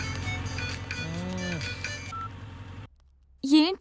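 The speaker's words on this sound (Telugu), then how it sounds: "ఎవరో ఫోన్ రా." A mobile phone ringtone plays in repeated melodic tonal phrases, moderately loud, then drops to near silence before a voice speaks.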